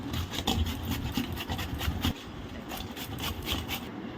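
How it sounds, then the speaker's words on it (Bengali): Raw papaya rubbed against a hand grater gives repeated rhythmic rasping strokes, close and moderately quiet, continuing steadily with no talking. "এখন আমি পেঁপেটা ঘষে নেব"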